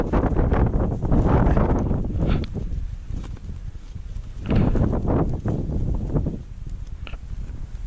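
Strong wind blows across the top of Prairie Mountain, buffeting the microphone in loud, rumbling gusts that swell and ease twice, with no speech.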